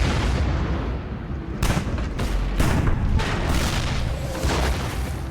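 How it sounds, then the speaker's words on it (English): Soviet artillery shelling Berlin in April, a continuous heavy rumble of distant guns with repeated booming blasts and crackling bursts layered densely together, loud and sustained with no pauses. "Soviet artillery begins to shell Berlin on April 20th"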